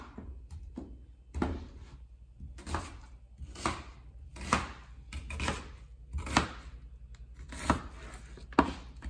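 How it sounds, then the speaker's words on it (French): Knife chopping a white onion on a board, a steady series of crisp, close thuds roughly every second, fairly quiet and without speech. "c'est qu'on va découper l'oignon."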